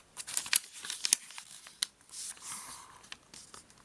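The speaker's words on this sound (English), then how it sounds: "So we'll start by folding the edges up to the diagonals" Origami paper is creased and folded close up, giving faint, irregular crinkles and crisp little snaps in quick bursts with brief quiet gaps.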